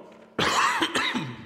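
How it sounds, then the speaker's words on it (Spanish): One sudden, harsh cough from a person still recovering from an illness, followed by a second, shorter rasping burst and some throat clearing, close and loud after a quiet moment. "Todavía tengo algo de tos"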